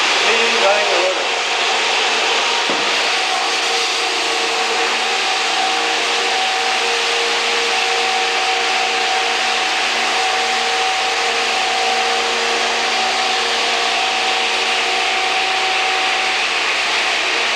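A rotary floor machine sands a lane surface, giving a loud, continuous gritty whir with a steady hum that fills the whole stretch. There is a brief knock near the start.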